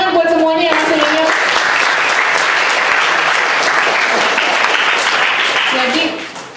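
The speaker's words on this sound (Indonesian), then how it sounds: "tepuk tangan buat semuanya yang masih ingat" Sustained, loud audience applause fills a public lecture hall at a university, steady dense clapping that continues for several seconds before tapering off at the end, with a brief voice audible at the start.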